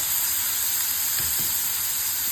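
Bottle gourd seeds fry in a hot pan with a steady, close sizzle and hiss, plus a couple of faint scraping stirs partway through; no voices.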